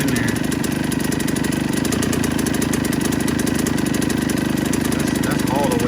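A 2000 Suzuki RM 125 two-stroke dirt bike engine idles high and steady, a loud, close, continuous buzzing drone running unbroken the whole time with faint talk beneath it.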